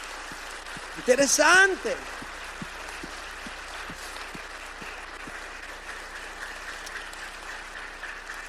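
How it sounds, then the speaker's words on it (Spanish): A church congregation applauds during a Spanish-language service, a steady wash of clapping throughout, briefly topped by a raised voice near the start. "Alguien le da un aplauso fuerte al Señor esta mañana."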